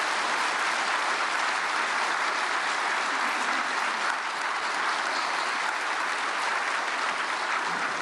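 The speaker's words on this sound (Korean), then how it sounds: "박수로 환영하시겠습니다" Warm, sustained applause from a church congregation welcoming a pastor, many hands clapping densely and evenly at close, full volume for several seconds.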